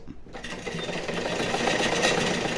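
A sewing machine runs steadily, stitching a blouse lining to the blouse piece, its close, continuous whirring hum starting after a brief quiet moment and holding even throughout.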